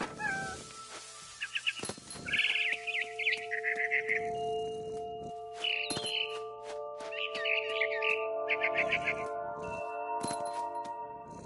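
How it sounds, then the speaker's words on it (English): A frightened bird chirps in the video game What Remains of Edith Finch, giving short bursts of high twittering calls in several groups, with game music tones and soft thumps underneath. "I tried to be quiet, but the bird was really scared."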